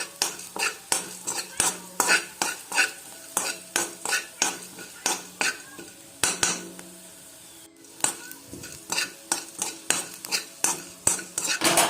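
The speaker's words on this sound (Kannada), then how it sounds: "ಇವಾಗ ಕೊತ್ತಂಬರಿ ಬೀಜವನ್ನು ಸರಿಯಾಗಿ ನಾವು ಫ್ರೈ ಮಾಡಿಕೊಳ್ಬೇಕು" Coriander seeds and onion frying on low heat in a pan, with a spoon scraping and clinking against the metal in quick, repeated strokes over a soft background sizzle, close and fairly loud.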